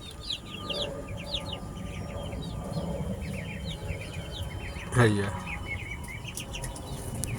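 Chickens cluck and chirp in the background on a farm while a voice talks over them, with one louder knock partway through.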